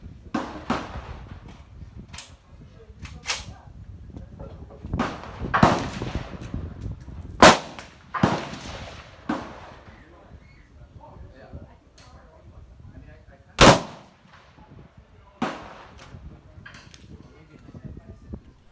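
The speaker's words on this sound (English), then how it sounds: "You guys enjoy me taking one more shot at the range" Sharp blasts from an H. Koon .410 Snake Charmer shotgun at a shooting range, scattered among several other loud transients, with someone talking throughout.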